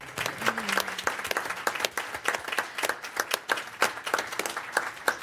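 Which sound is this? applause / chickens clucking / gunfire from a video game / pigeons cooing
applause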